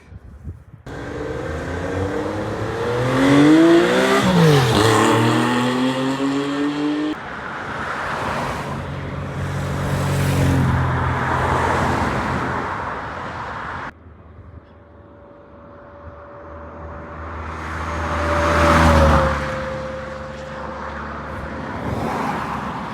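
A Caterham Super 7 sports car with red detailing passes close by, and other sports cars follow. Each pass brings an engine roar that swells and falls, with tones sliding as the cars go by and engines revving between the passes.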